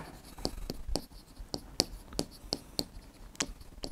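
A pen or chalk taps and scratches out the formula for the area of a square during a maths lesson, in about ten quick, evenly spaced strokes, close up and with no speech over it.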